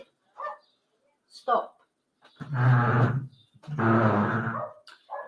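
A pet dog barks and growls in short bursts, loud and close, between and under a woman's speech indoors.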